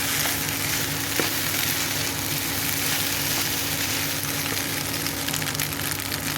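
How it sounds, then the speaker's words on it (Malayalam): Cooked macaroni sizzles in a frying pan, a dense and steady frying hiss that stays even throughout, with no voices. "ഇതിലൊക്കെ നമ്മൾ വേവിച്ച് വെച്ചിരിക്കുന്ന മക്രോണി നമുക്ക് ഇട്ട് കൊടുക്കാം."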